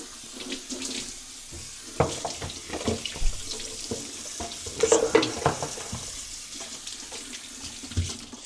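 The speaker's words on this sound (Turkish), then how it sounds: "Ben bunu yıkıyorum." Food is washed under a running kitchen tap, with water splashing into the sink and intermittent clatter and rubbing close by, and no talking.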